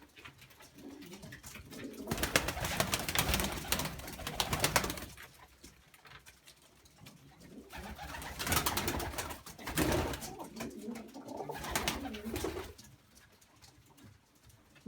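Pigeons, including Birmingham rollers, coo close by on a balcony in several soft, throaty bursts separated by brief lulls, with some rustling between calls.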